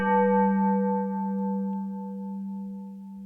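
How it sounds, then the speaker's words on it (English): A synthesized bell chime in the style of the Taco Bell jingle, played on a DX7 synthesizer: a single sustained metallic tone with a steady harmonic ring that slowly fades, heard alone. "That was the Taco Bell dong."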